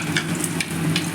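Spiced masala with tomato frying in hot oil for a cauliflower roast gives a steady close sizzle, with a few brief brighter bursts as the mixture is stirred.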